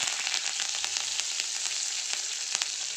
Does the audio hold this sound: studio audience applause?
no